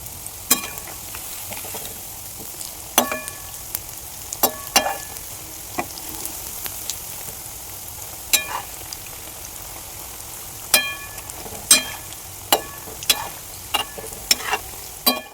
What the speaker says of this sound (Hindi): अब ये फ्राई होगा हमारा, लेकिन जब तक एक साइड से ये अच्छे से ना हो जाए तब तक इसे हम दूसरे साइड नहीं पलटेंगे।